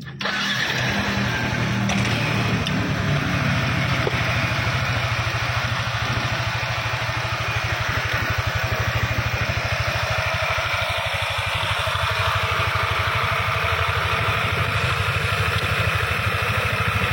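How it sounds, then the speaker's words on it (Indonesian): A rebuilt motorcycle engine starts on test and keeps running at a steady, loud idle, with a close, continuous mechanical drone throughout. "saya rakit mesinnya dan kita akan tes ya mesinnya sampai hidup"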